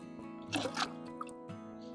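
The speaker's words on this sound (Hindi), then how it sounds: "मैं अब इसमें पानी डाल दूँगी" Water is poured from a container into a potted tomato plant being transplanted, giving a brief splashing gush followed by a few soft drips and trickles against a quiet background with faint tonal hum.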